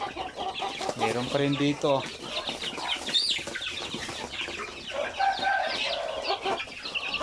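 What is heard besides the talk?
hens clucking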